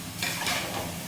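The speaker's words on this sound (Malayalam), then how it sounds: "കൊടിൽ പിടിച്ച് സ്പൂൺ ഇങ്ങനെ ഇളക്കട്ടെ" A spoon stirring chicken curry in a pot, a short close scraping and sizzling swirl lasting about a second with no talking.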